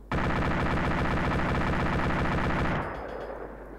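.50 cal machine gun firing in a video game, a sustained rapid burst of heavy shots that stops near the end and leaves a fading echo.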